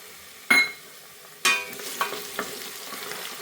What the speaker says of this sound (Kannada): ಸ್ವಲ್ಪ ಪುದೀನ ಈ ಥರ ಫ್ರೈ ಮಾಡ್ಕೊಳ್ಳಿ